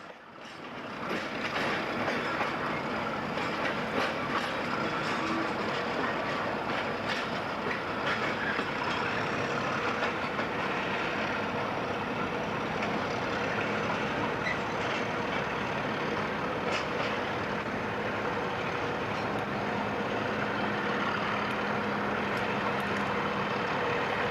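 A train departs westward near Scunthorpe, rumbling steadily past at close range, a dense continuous roar of wheels and engine with faint rail clatter, holding the same level throughout.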